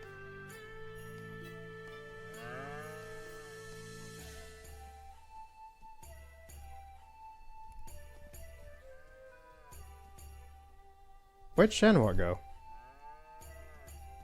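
Cows moo in the video game Shenmue 3, several long, low drawn-out calls repeating over a background of game music, with someone talking briefly near the end.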